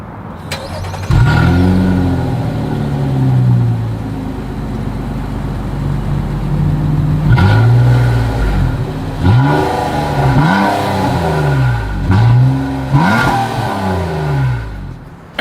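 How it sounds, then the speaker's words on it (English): A 2023 Nissan Maxima with dual exhaust and quad tips starts and idles, then is revved repeatedly, with one early blip followed by a quick series of sharp, rising and falling throttle bursts, loud and close. "As always, here is that exhaust clip."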